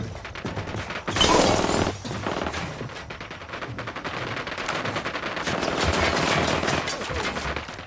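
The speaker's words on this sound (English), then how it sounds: "I'm opening fire on these shitheads." Sustained automatic gunfire from a Ghost Recon Wildlands firefight, dense rapid bursts loud and continuous throughout with an intense spike near the start, no talk.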